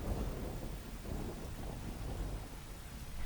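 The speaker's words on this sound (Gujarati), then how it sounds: "ડિમ્પલજી, જે પ્રમાણે વરસાદ વરસી રહ્યો છે, જનજીવન અસ્તવ્યસ્ત થઈ ગયું છે" Heavy rain pours steadily with deep rumbling thunder rolling underneath, a dense continuous wash of downpour during a severe storm in Jamjodhpur, loud and unbroken throughout.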